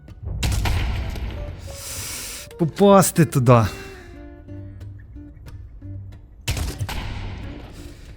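Heavy explosive bursts from a grenade launcher in Counter-Strike 2, played in VR, boom at the start and again near the end, with someone speaking briefly in between.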